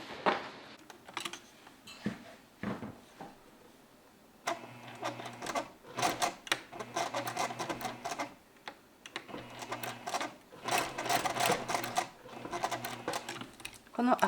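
Sewing machine stitching a rounded shirt collar, running in close rapid whirring bursts with short stops between them, and a voice speaking quietly alongside.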